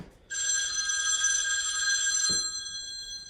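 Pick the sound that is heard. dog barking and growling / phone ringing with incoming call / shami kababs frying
phone ringing with incoming call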